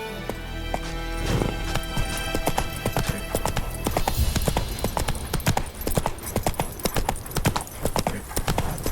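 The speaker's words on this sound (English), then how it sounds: "Whoa there, Roach" Horse hooves clip-clopping at a trot in The Witcher 3, a steady run of sharp, close hoofbeats over game ambience with a brief whinny-like sound early on.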